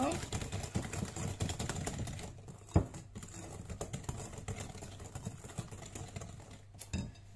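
Brownie batter mixed in a bowl makes a quiet, close run of rapid tapping and scraping strokes, with a brief louder knock partway through and a voice now and then.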